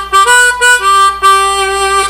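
A harmonica plays a short phrase landing on an unbent three draw note, close and loud, with a few quick notes before a steady held tone, no speech.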